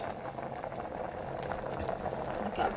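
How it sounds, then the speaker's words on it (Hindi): Potatoes boil in a pot for an aloo paratha, a steady close bubbling and rolling churn of water that holds level throughout with no talk over it. "आलू अब हमारे उबल चुके हैं।"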